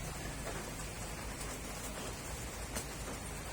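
Rain falls steadily during an outdoor police event in Bicol, an even, dense hiss of drops on surfaces, continuous and fairly loud, with no voices present.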